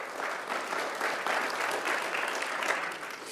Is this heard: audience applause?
yes